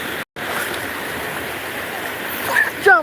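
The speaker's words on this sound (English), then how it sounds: "Here comes the waves." Steady rushing wash of surf close by, broad and continuous, with a brief gap near the start and a voice calling out near the end.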